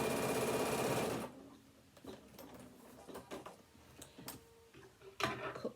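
A sewing machine stitches a leather card wallet in a loud, rapid whirring burst for about a second, then stops, followed by quiet handling clicks and taps.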